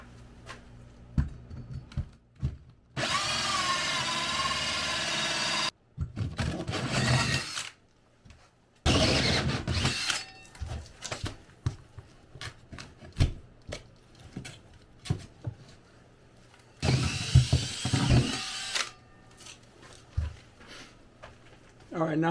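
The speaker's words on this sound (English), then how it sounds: "I'm using a 4 1/8 inch drill bit to drill the hole." A drill fitted with a 4 1/8 inch bit bores through a floor for a dryer vent hole, giving three sustained loud bursts of grinding, whirring cutting. Between bursts come quieter clicks and handling knocks.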